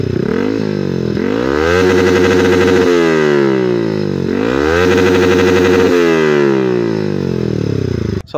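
A Yamaha R15 V3 with an SC Project S1 exhaust revs loudly and close by. The engine climbs in pitch in repeated surges and then falls back each time, with no talking.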